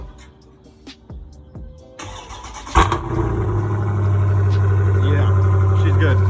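A 2020 Dodge Challenger Scat Pack, left sitting overnight, cranks briefly and fires up with a loud burst, then settles into a steady, rumbling idle close by; a few faint sounds precede the start.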